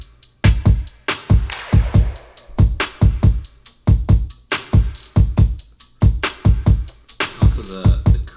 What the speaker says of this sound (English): Oh, and then this laser sweep thing first, actually.